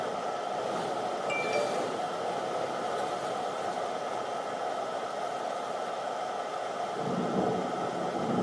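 Thunder rumbling from an approaching storm during a Texas storm chase, a continuous low, broad roar with wind-like noise, steady and fairly loud throughout, with a deeper swell near the end.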